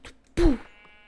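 A single short sheep bleat in a video game, a clear wavering cry heard close after a brief thump, then quiet.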